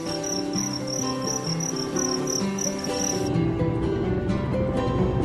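Two-spotted crickets chirp in a continuous, rhythmic high trill close by, alone with no voices.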